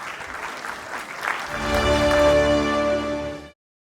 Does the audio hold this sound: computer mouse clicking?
no